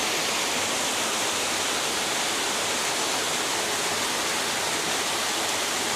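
Stream flowing near a cave on a mountain, a steady, loud, unbroken rush of water with no voices.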